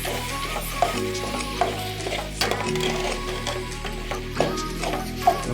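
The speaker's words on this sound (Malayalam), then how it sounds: "അതിനുശേഷം മക്രോണി ഇട്ട് കൊടുക്കുക അതിന് നമുക്ക് നല്ല രീതിയിലൊന്ന് മിക്സ് ചെയ്തെടുക്കാം" Macaroni being stirred and mixed in a frying pan, a steady scraping and sizzling texture with occasional sharper utensil knocks, continuous and close, with no voices.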